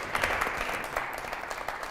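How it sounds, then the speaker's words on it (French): An audience at a lycée event applauds a student, a brief, steady patter of clapping heard at a moderate distance. "Applaudissements pour elle."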